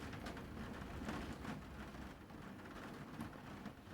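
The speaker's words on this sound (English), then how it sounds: "Don't know whether you can hear that rain on the window outside my room here." Rain striking a window outside a room makes a steady, close, dense patter with a few louder taps. No one speaks over it.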